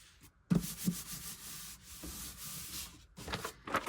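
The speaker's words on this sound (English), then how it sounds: "I'm going to line up my score marks here. And I'm just going to slide this up" Paper slides and rubs against a surface while score marks on a mini book are lined up, producing quiet, close scraping strokes with a few sharper taps and no voices.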